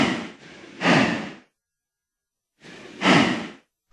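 Two slow, breathy exhales separated by a silent pause, a cow's heavy breathing sound effect in Minecraft, close and clear.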